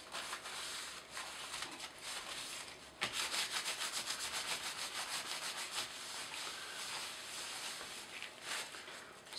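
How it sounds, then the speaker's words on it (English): Cloth dampened with alcohol wiped over HDPE fabric along the edges to be joined, giving a steady close scratchy rubbing that swells into rhythmic back-and-forth strokes partway through, with no talking. "wipe down basically all sides of the fabric where it's going to be joined together"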